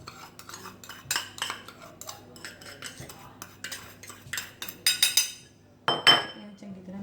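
Spoon clinking and scraping against a bowl while cream and sugar are mixed, a steady run of light taps that grow louder and sharper toward the end, close and alone.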